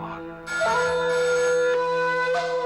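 A telephone rings loudly in a tense indoor scene from a Hindi suspense drama, a repeating electronic ring tone sounding in bursts with no one speaking over it.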